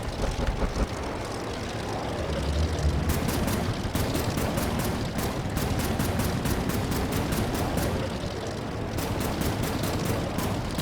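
Rapid bursts of gunfire rattle in regular volleys over a steady aircraft engine drone during a dogfight in the online game Air Wars 3, loud and continuous with no talking.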